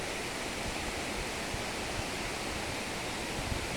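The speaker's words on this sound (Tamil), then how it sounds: "இந்த அருவி பாருங்கள் எவ்வளோ அழகாக போயிட்டு இருக்குதுன்னு" A waterfall beside the road from Bommudi to Yercaud pours in a steady, dense rushing hiss, unbroken and fairly close, with no voices over it.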